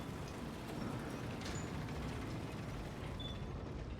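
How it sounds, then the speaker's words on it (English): A gate mechanism shutting in the video game Vampyr, a steady dense mechanical grinding and rattling that holds evenly for a few seconds with a faint ratchet-like texture throughout, no voices. "That gate should shut properly now."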